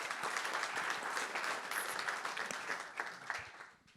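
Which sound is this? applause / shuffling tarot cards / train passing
applause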